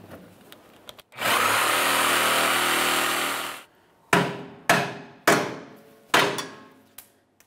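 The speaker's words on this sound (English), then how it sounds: "use a Sawzall or whatever you might happen to have to cut the bolt" A reciprocating saw fitted with a metal blade cuts a rear lower control arm bolt on a 2003-2007 Honda Accord, one sustained buzzing run followed by four short sharp bursts, loud and close.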